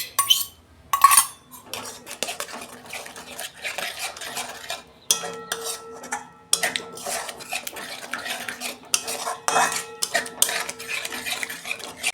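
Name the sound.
yogurt being stirred into masala with a spoon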